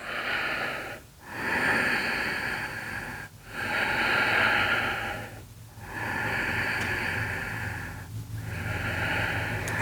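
Slow, deep breaths held during a postpartum yoga pose: several long, close airy inhale-exhale cycles with short pauses between them, steady and unhurried, with no talking.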